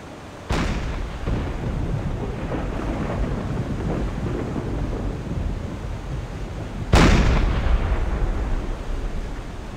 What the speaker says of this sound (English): Well, I'm seeing explosions.